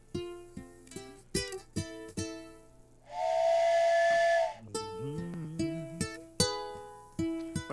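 A steam train whistle sound effect blows one sustained, loud blast of about a second and a half, set between plucked guitar notes.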